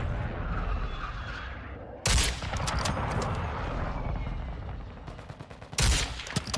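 Gunfire from the Intervention sniper rifle in Warzone 2 comes in two sharp, loud cracks several seconds apart, with busy game noise and rapid clicking in between.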